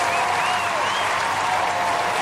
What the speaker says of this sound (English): Someone give this man a round of applause.